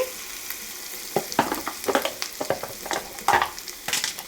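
Green chili and ginger paste frying in a hot tempering for buttermilk soup, with loud crackling sizzles that burst and pop irregularly over a soft steady hiss, and bursts of stirring in the pan.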